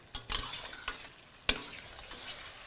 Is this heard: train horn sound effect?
no